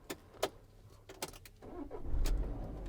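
A 2019 Citroen Relay 2.2 BlueHDi van, key clicks and rattles before the diesel engine cranks and catches into a steady idle at close range in the cab, no talking.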